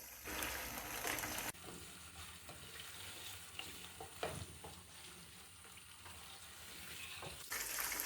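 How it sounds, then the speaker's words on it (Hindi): One kilogram of chicken fries in hot ghee, a steady close sizzle with stirring scrapes and occasional louder hissing bursts, no talking. "चिकन को हम 5 से 7 मिनट फ्राई कर लेंगे।"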